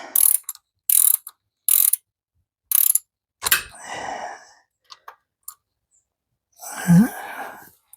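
A hand ratchet tightens bolts on a 1950 Farmall Cub tractor in several short, sharp bursts of clicking, followed by a few quieter clanks and a breathy sigh near the end.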